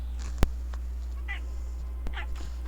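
A house cat gives a few short meows at close range, with a sharp click and faint room noise between the calls, while a person speaks briefly nearby.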